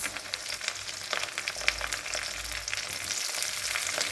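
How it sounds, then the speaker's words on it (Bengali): Vegetables for fried rice sizzle steadily in a hot pan, a continuous crackling hiss with no talking. "এখন আমি সবজিগুলো দিয়ে দেবো।"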